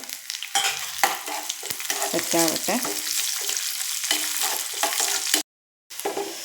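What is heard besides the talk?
cashews and raisins frying in ghee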